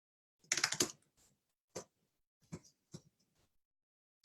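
Typing on a computer keyboard, a quick cluster of close key clicks followed by a few isolated taps spaced apart in an otherwise quiet room.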